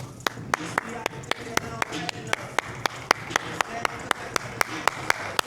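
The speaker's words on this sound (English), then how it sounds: "So I'll start clapping" A coach claps a steady, evenly spaced rhythm for a resisted sprint drill in ACL rehab, sharp single claps repeating about three per second over low background noise and faint speech.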